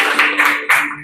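Brief applause from a classroom of students, a short burst of hand clapping that swells in a few quick waves and cuts off after about a second.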